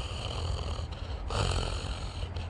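A voice imitates a grandfather's snoring with a long, rough, rattling snore that surges louder midway, close and alone.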